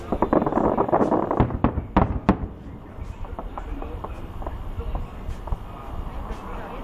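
Fireworks for Eid al-Fitr in Riyadh burst in a quick series of loud bangs and crackles, then scattered fainter pops continue as people talk nearby.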